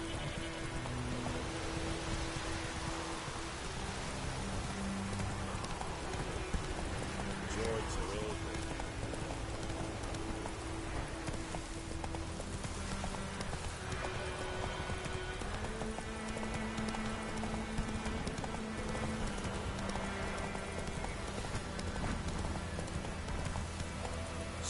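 Horse hooves clip-clop steadily in The Witcher 3 video game, a continuous even trotting rhythm over dense game ambience, with a voice speaking at times.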